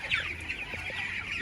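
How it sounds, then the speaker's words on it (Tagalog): Several 15-day-old broiler chickens cluck and chatter together at close range, a steady busy flock sound with no talking. "Magagandang manok."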